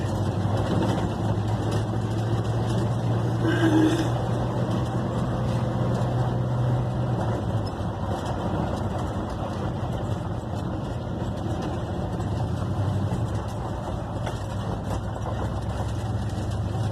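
A 1972 Ford F100 pickup drives along a dirt road, its engine giving a steady, loud low rumble with continuous road and cabin noise throughout, and no talk.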